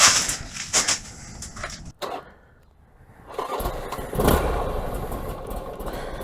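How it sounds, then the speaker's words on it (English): A Buell XB motorcycle cranks after some clicking and a short quiet pause, then fires up and settles into a steady running idle, close and fairly loud. "I got a running bike again."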